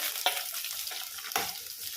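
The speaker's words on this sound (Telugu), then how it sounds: "ముందుగా కట్ చేసుకున్నటువంటి క్యాప్సికమ్ అవన్నీ ఒకేసారి వేసుకోకుండా కొంచెం స్టెప్ స్టెప్గా వేసుకొని వేయించుకోవాలి" Capsicum and tomatoes frying in a pan give a faint, steady sizzle broken by two brief scrapes of a stirring spoon, close up and quiet, with no talking.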